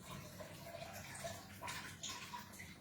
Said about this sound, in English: So I'm just going to tip that water off.